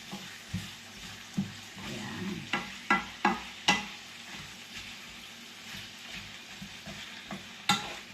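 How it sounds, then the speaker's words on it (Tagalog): Two tomatoes and one large onion fry together in a pan for pakbet, a soft continuous sizzle broken by repeated close spatula scrapes and knocks against the pan. "Habang niluluto po natin yung kamatis, naluluto pa rin po yung ating sibuyas."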